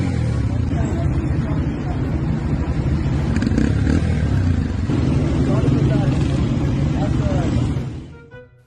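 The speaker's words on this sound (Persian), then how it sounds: "طرف سوار موتور شده، موتور سوزوکی" A Suzuki motorcycle engine drones loudly and continuously, shifting pitch as it rides along a street, then cuts away abruptly at the end.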